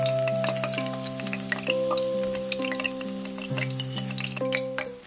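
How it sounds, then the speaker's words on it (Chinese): Sweet potato balls deep-frying in oil heated to about 180 degrees, a steady sizzle with scattered crackles and pops beneath a bed of sustained background music. "将地瓜球再搓一遍，搓圆，然后放入油锅，炸至浮起，颜色变金黄就可以出锅了"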